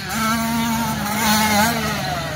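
A racing quad engine at the Monster Mountain quad race grand finale, in a 90 open junior class, holds a steady, buzzing drone close by with slight rises in revs, loud and continuous, with no voices.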